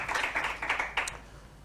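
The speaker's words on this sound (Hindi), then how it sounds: "नाज़दार तालियाँ होनी चाहिए, बहुत ज़्यादा क्लैपिंग मेरे बच्चों के लिए।" A studio audience claps for children on an Islamic quiz show aired on Metro TV during Ramadan. The brief burst of rhythmic, moderately faint applause fades quickly.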